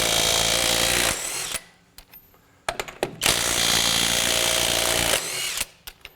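A $100 Amazon impact wrench hammers loudly at full power against a lug torqued to 230, in two long rattling bursts with a few short taps between them.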